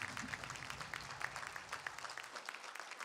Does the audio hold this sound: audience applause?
yes